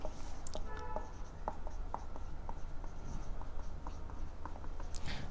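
Equations being written out by hand, with close scratchy strokes and small taps in an irregular rhythm, steady and moderately loud.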